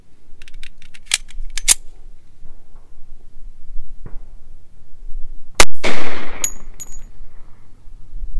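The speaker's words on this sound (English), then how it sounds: "We're going to fire it out of a standard length 1911 A1." A standard-length 1911 A1 pistol fires a single sharp, loud .45 Auto shot of Prograde 185 gr TAC-XP solid copper hollow point into ballistic gel, with mechanical clicks and handling noise before and after.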